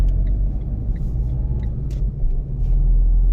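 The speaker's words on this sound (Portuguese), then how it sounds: "Olha só a ventania que tá. Vocês estão escutando?" Strong wind buffets a car from outside, heard from inside the cabin as a loud, steady low roar and rumble that continues without a break. A few faint clicks sit on top of the roar.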